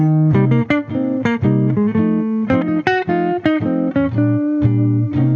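A jazz guitar plays a ii-V-I lick over a backing track, with short plucked notes and chords in a lively rhythm, clear and up front with no voice.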